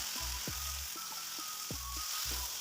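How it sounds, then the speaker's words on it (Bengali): Garlic fries in oil, a steady, even sizzling hiss that runs the whole time, broken by a few soft low knocks and thumps. "দিয়ে কিছুক্ষণ এটাকে নেড়ে চেড়ে ভালো করে ভেজে নেব। বেশ রসুন ভাজার সুগন্ধ বেরোলে"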